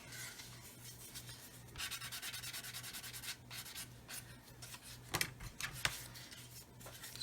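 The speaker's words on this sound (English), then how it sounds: "there's actually some sanding required on there because there's a bit of an edge sticking out" Sanding a protruding edge off a plastic part of a Roden 1/144 C-141B Starlifter model kit, quiet rasping strokes in a steady back-and-forth rhythm close up, with a couple of sharp taps near the end.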